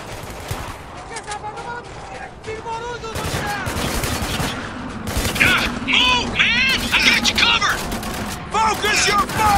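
Rapid bursts of automatic rifle fire and single shots in a Spec Ops: The Line firefight, loud and close, with shouted voices cutting in between the volleys.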